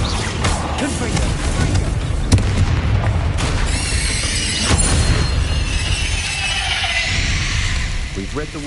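Fire spell explosions in the Hogwarts Legacy video game, with booming blasts and crackling bursts, shattering debris and rumbling impacts that repeat across the span, loud and dense with game sound effects.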